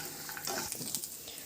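Cashews fry in hot tempering oil for curd vermicelli prasadam, a soft, steady sizzle heard close up with faint stirring.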